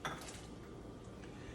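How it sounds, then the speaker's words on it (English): Cut-up carrots tipped into a pot of boiling water, giving a brief clatter and clink of pot and utensil at the start, then a steady bubbling, rushing wash of water close by with no talk. "So I'm going to put the carrots in the boiling water"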